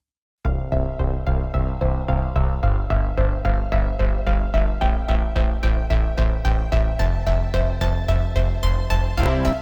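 A bright synth plays a steady, evenly pulsing synth-pop arpeggio of repeated notes that steps downward in pitch to C, loud and upfront with no voices.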